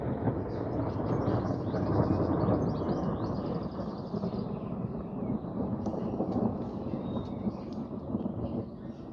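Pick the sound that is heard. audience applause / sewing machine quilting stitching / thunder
thunder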